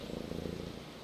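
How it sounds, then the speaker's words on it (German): A cat purring as it is picked up in the video game Brother: A Tale of Two Sons, a soft rhythmic rumbling purr, close and steady, alone without speech. "die Chaos-Miete schnurrt sogar, wenn man es auf den Arm nimmt"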